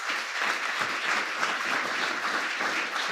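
Steady, dense audience applause at a World AIDS Day presidential speech, a continuous even patter of many hands at moderate distance with no voices standing out.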